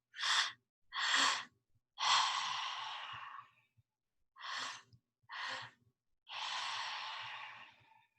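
Deep exhales during yoga breath work, heard as a series of breathy puffs: two short sharp breaths, then a long drawn-out sigh, repeated twice, close and clear with no talking.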